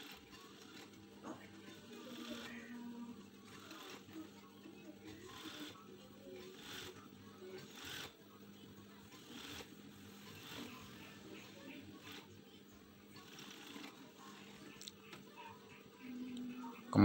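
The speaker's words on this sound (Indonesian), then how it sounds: "Kemudian kita jahit ke kain serongnya ya. Jahitnya seperti ini ya teman-teman." A sewing machine stitches collar trim onto bias-cut fabric with a quiet, rapid mechanical whirring in short repeated bursts, while someone talks over it.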